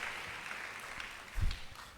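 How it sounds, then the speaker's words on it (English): Faint, distant audience applause at a university guest lecture in Winneba, a soft continuous patter of many hands lasting about two seconds with no voices over it. "Maybe we give a round of applause to those who"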